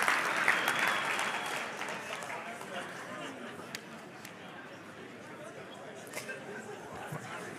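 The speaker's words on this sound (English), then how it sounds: "give a round of applause for the most overwhelmed" Steady applause from a crowd, loud at first and tapering slightly, with scattered voices and cheers mixed in throughout.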